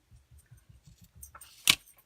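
Ribbon scissors cut through black shimmer ribbon, faint rustling and light handling followed by one crisp, sharp snip near the end, close up and with no talk.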